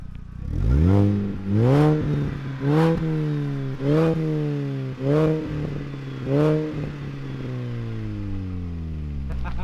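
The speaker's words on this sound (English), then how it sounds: "Now the next thing we have to do is obviously compare the Mini Cooper to the Focus exhaust" A Mini Cooper's exhaust revved repeatedly, about six rising blips of engine pitch in a steady rhythm, close and loud, settling back to idle between each.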